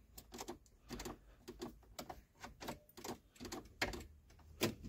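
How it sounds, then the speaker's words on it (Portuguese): A car turn signal ticks at a steady rhythm, sounding as sharp, close, fairly faint clicks inside the vehicle during a lighting check, with no talking. "Vamos ligar o pisca."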